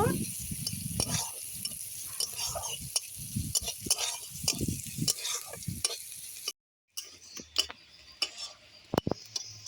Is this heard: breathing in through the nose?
no